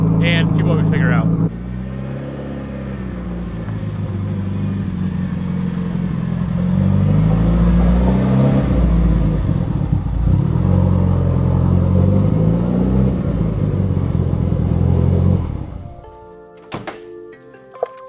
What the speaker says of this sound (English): It literally sounds like you're floating a valve every time we rev way out.